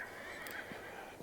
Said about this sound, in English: I don't know if you can hear that whinnying in the background there.